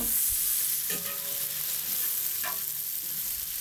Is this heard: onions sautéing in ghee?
yes